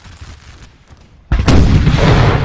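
An artillery cannon fires in Napoleon Total War, a single heavy, sudden boom that cuts in after a low rumbling lull and rolls on loudly.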